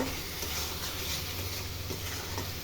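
Taro pieces stir-fry in a pan of cooked spice paste, giving a steady, close sizzle with soft stirring scrapes running through the whole stretch and no voices.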